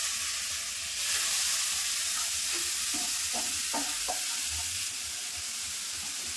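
Grated carrot sizzles in melted ghee in a pan, a steady bright hiss with a few scraping stirs in the middle. It is close and fairly quiet, with no voices.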